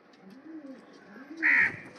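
Pet pigeons cooing nearby in soft, repeated low rolling calls, with one louder, sharper call rising briefly near the end over faint background noise.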